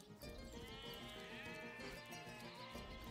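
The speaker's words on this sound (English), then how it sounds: "Oh, here's another sheep over here." Sheep bleating in the video game Divinity: Original Sin, a single drawn-out wavering bleat that lasts the whole moment, faint and low in level, heard alone without speech.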